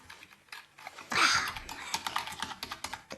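Someone types a terminal command on a computer keyboard, with close, quick clacking keystrokes in an irregular run and one louder burst of keys in the middle.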